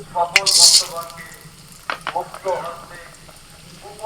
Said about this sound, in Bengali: তেলের মধ্যে ফোড়নে দিয়ে দিচ্ছি আমি কালো সরষে ছোলার ডাল